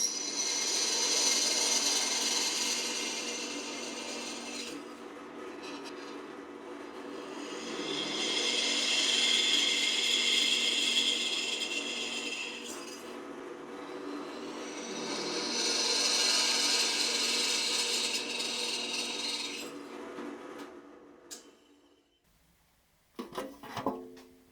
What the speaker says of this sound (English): I'm going to step it up to a 1/4 inch bit and once again drill all 3